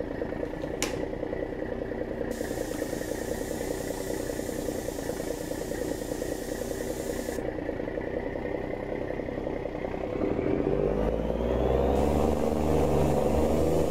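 An overloaded vehicle with a broken engine idles with a steady, moderate mechanical drone, then strains to pull away as a deeper, louder rumble swells in over the last few seconds.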